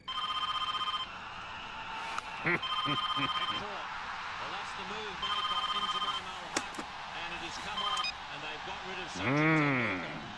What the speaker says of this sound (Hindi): Redial. It is ringing. I can hear it.